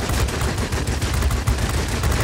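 Rapid bursts of aircraft machine-gun fire strafing an enemy plane in a flight combat video game, loud, dense rattling shots running continuously with no talk.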